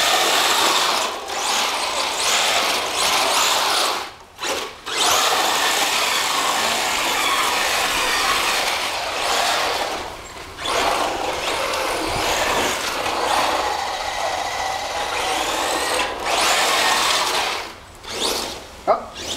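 RedCat BlackOut XTE and F-150 Raptor RC trucks drift on ice outdoors, their electric motors whining and surging continuously with short pauses, loud and fairly close.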